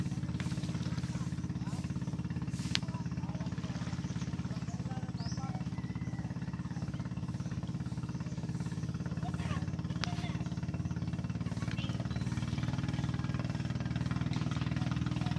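A low, steady motorboat engine drone runs throughout on the sea, rumbling and continuous, with faint voices and occasional clatter over it.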